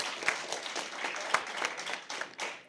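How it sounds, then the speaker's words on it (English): Audience clapping after a secondary school debate round, a brief, fairly close burst of many hands with individual sharp claps standing out, fading slightly toward the end. "please give our judges a round of applause for their excellent work"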